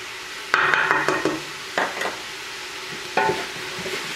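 Onions going into a pan of browned garlic and ground beef for chili, with sizzling under a few clattery bursts of stirring and scraping, separated by quieter gaps.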